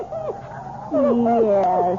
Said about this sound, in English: Yes, that's a good dog.